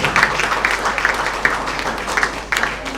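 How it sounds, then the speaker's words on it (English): An audience at a legal conference on international trade applauds a guest being welcomed onto the stage, with clapping that is dense but uneven, rising and dipping in small bursts. "Round of applause for him."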